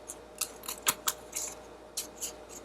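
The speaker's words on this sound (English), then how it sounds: "you're going to cut out a little rectangle, about half the size of the rectangle that you want" Scissors snipping a rectangle out of folded paper, a quick series of about ten crisp, close cuts in an uneven rhythm, some louder than others, with no voices.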